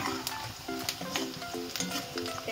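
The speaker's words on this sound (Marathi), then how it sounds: "जिरे, मोहरी आणि कांदा तेल टाकून दिलं याच्यामध्ये कढईमध्ये" Cumin, mustard seeds and onion fry in oil in a kadhai, a close, continuous sizzle with quick spatula scrapes and a few clinks against the metal, heard alone.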